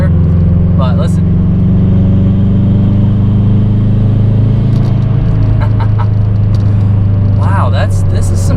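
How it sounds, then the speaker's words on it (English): A 2013 Subaru WRX hatchback's 4-cylinder engine drones loud and steady from inside the cabin under hard acceleration, with a constant low rumble and brief higher whines as it pulls. "sometimes it's a little bit hard to get a good sound out of a 4-cylinder"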